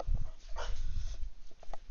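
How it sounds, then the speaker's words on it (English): A pet dog whines and whimpers in short, uneven bursts, close by with some low rumbling underneath, the yelps rising and falling in a restless stretch. "Sorry, the dog's just playing up."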